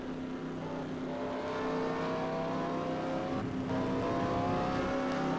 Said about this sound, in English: A lot of cars on pit road.